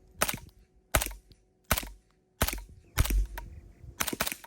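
Suppressed 150 grain subsonic 9mm rounds fired from a PTR 9CT, an MP5-style gun, through a HuxWrx Flow Range 36 TI silencer, six sharp reports spaced irregularly, loud and close, each with a short decay.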